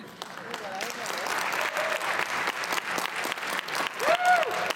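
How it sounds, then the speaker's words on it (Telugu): An audience applauds after a comedy skit at a Diwali program, with continuous, fairly close clapping throughout. Voices talk over the applause. "ఇంత కామెడీ పండించిన ఈ స్కిట్కి మళ్ళీ ఇంకో చప్పట్లండి బాబు, గట్టిగా చప్పట్లు."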